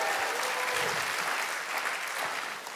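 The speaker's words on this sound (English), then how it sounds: "give the Lord a great big hand clap" Church congregation claps for the Lord during a sermon, a full, continuous round of hand clapping from many people, fairly loud and even throughout.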